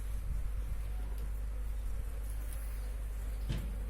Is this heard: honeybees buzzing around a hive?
yes